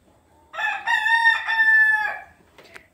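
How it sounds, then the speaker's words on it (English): A rooster crows loudly nearby, a single drawn-out cock-a-doodle-doo lasting about a second and a half, followed by a few faint clucks, in a farmyard by a pen where a sow lies with her newborn piglets. "The only one under there right now is a chicken."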